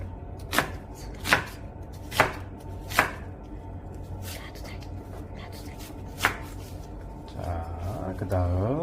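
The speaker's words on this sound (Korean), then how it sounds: "양파는 채 썰어 주시고 다른 야채들은 깍둑 썰기를 할 거예요." Onion being sliced into strips with a knife on a board for curry, several sharp distinct chops spaced about a second apart, then quieter handling and a faint high squeak at the end.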